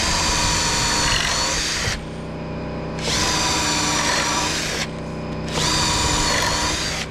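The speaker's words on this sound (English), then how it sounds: "I always drill those holes 3/8 of an inch, and I use 5/16 inch bolts" A power drill bores 3/8-inch holes in the wooden boards of a porch swing, in three long, loud whirring bursts separated by brief lower idling lulls, with no voices.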